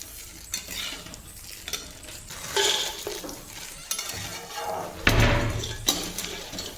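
Black cardamom and whole spices roast in a pan with a little oil, giving a light sizzle under irregular stirring scrapes and occasional knocks of the utensil against the pan.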